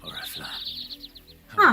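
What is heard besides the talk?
birds chirping in fields in the video game Final Fantasy XVI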